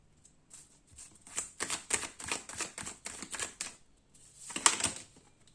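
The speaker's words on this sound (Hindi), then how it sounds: "ओके, काफी सारे कार्ड्स गिर गए हैं।" A deck of tarot cards spills and flutters, a quick patter of light slaps, then a brief pause and one last short clatter, close and fairly quiet.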